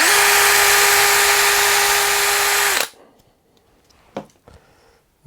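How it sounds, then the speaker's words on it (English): A power drill whines loudly and steadily up close for about three seconds while boring into a foam block, then cuts off, leaving a few soft knocks and handling sounds. "You put it into a drill."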